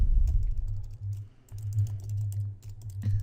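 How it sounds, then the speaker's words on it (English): Typing on a computer keyboard while writing in Word: close, rapid clusters of key clicks with a brief pause in the middle, with no speech. "we're going to press the Tab key to give us a little bit of an indent and type the last phrase"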